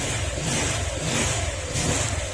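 A Honda Click 125 scooter engine runs steadily and loudly up close, its mid-pitched drone holding even throughout with no talking.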